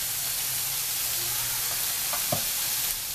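Pieces of liver frying in a pan give a steady, close sizzle and hiss, with a few soft stirring clicks partway through.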